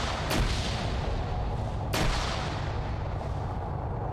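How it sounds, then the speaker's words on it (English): Grenade launcher and gunfire in a military video game: two sharp, loud blasts about a second and a half apart over a constant rumbling battle backdrop. "Ooh, good grenade launch on Yanni and Infidel and them."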